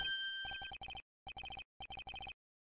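In the Phoenix Wright: Justice for All video game, a cell phone rings in clipped electronic bursts. Rapid beeping trills come in three or four groups with silent gaps between them. The sound is clean and close.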